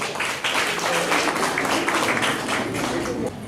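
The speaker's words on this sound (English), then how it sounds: "Please welcome ever energetic M3C batch on the stage with a thunder of applause." Audience in a school auditorium applauding as young children come onto the stage for a show, a loud, dense clapping that swells and fades slightly, with some crowd voices mixed in.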